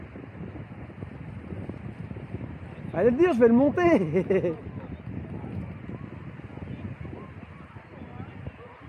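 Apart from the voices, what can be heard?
wind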